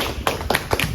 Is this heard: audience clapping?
yes